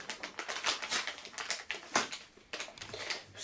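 Rapid crinkly rustling and tapping as a box of mealworm crackers is torn open, close up, in a dense run of small crackles and scrapes with no talk.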